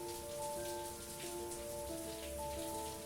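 A shower runs in the game Heavy Rain, a dense steady hiss of falling water with faint tonal music underneath and no talk.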